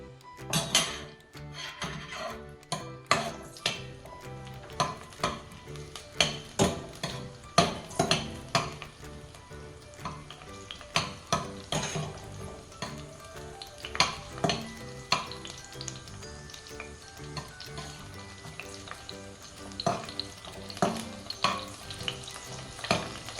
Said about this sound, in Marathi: आता हिरव्या मिरच्या अशा परतून घ्यायच्या।